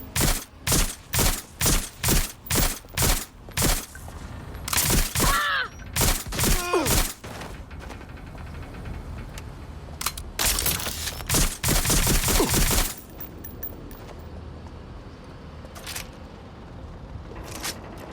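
Gunfire in the Watch Dogs Legion video game comes as a fast string of sharp, loud shots, then scattered bursts and a dense volley before fading into quieter background noise.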